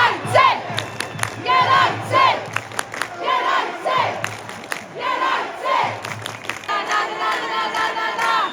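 Large football stadium crowd at a Juventus vs Manchester United match, a dense roar of many voices chanting in rhythmic waves that swell and dip, loud and continuous throughout.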